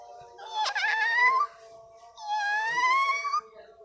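Two drawn-out, rising meow-like cries from a person imitating a cat, close and clear with a brief gap between them.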